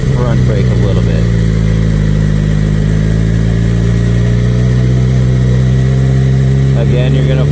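A motorcycle engine idles steadily during slow parking-lot practice with the clutch and front brake, a loud, constant low rumble close to the microphone, with a voice talking over it.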